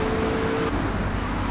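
A car engine in the video game GTA 3 hums steadily as the vehicle drives along, a constant mid-level motor drone with no talking.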